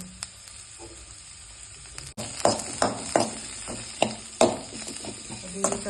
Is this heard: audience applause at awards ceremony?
no